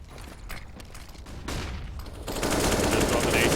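Gunfire in a firefight during a competitive esports video game match, with rapid overlapping shots and bursts growing denser and louder into sustained heavy fire by the end, with no talking.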